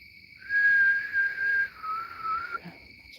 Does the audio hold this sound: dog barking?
no